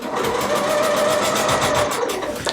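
Sewing machine stitching a ribbon hanging loop onto a quilted cotton Christmas stocking, a fast, even, close whirring hum with a light rhythmic tick that runs steadily throughout, no speech.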